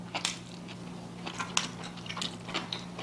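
Korean side dishes with mushrooms being chewed, soft close crunching and biting sounds repeating irregularly over a quiet background hum.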